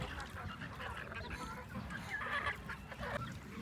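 Ducks and geese bathing together at a village chicken coop make a continuous mix of faint honks and quacks against a busy outdoor background.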